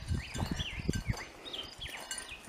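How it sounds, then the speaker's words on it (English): Several quick, whistled bird chirps repeat over a couple of seconds, mid-distance, alongside low thumps and rustling like footsteps nearby. "I hear the birds."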